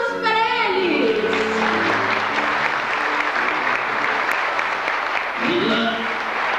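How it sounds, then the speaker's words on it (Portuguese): A theatre audience applauds viola players at a show, a sustained, crowded clapping that runs the whole time, with voices speaking over it at the start and again near the end. "Palmas para eles!"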